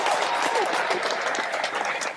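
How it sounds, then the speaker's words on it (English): Dense audience applause, steady and close, filling the whole short stretch without pause after a call to applaud an interpreter at a Deaf community show. "little bit of applause for her"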